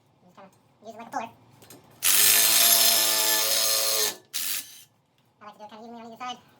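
A ratchet drives a bolt that serves as a makeshift ball joint puller on a Ford Expedition, giving a steady loud whirring burst of about two seconds and then a short second burst, with someone speaking before and after.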